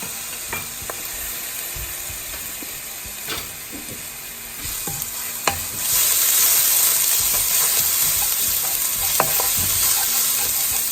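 An ingredient sizzles and crackles steadily in hot oil in a home kitchen as chicken fried rice gets under way, with a few utensil clicks and taps, and the frying gets louder and denser halfway through.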